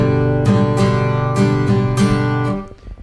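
Acoustic guitar strummed in a steady four-beat down, down, up, up, down, up pattern for a song, with crisp strokes every half second or so, close and alone before it rings out.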